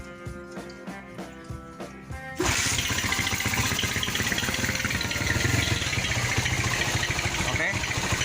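A Viar motorcycle engine idles steadily at about 1500 RPM, a loud, continuous mid-pitched running note that starts abruptly after a brief stretch of other sound, close to the microphone.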